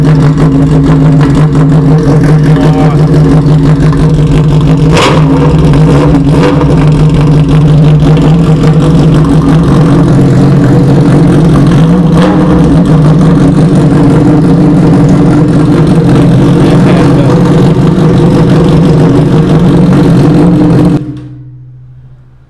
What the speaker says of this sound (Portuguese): ver como é que fica o barulho da moto sem a ponteira